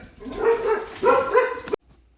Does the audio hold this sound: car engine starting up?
no